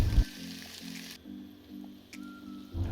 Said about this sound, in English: put these sliced fillets in the pan